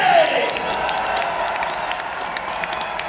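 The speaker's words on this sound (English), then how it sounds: "how about another nice round of applause for Aaron Toby!" A crowd at a jousting tournament claps and cheers loudly. A brief whoop or whistle rises at the start over dense, continuous applause that carries on for a few seconds.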